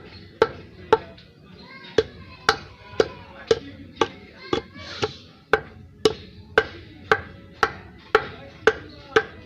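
Roasted peanuts are pounded in a mortar with sharp, regular thuds, about seventeen strikes spaced roughly half a second apart. The blows are close, loud and evenly paced with no talk.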